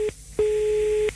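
Steady telephone busy tone on a dropped phone line during a radio broadcast, one long sustained beep bracketed by short breaks, clear and alone with no talk.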